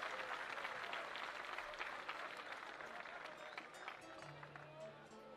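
Crowd at a Chilean rodeo applauding, a broad wash of clapping from a large outdoor audience with voices and cheers mixed in, fairly distant and steady.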